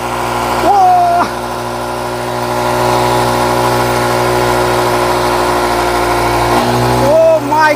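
A motorbike engine runs steadily with its silencer exhaust feeding a huge balloon, a continuous mid-pitched drone with brief higher tonal whines near the start and end, and excited voices talking over it.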